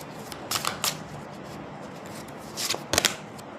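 A second tarot deck shuffled briefly, with two short bursts of close papery riffling, one early and one near the end, separated by quiet room tone.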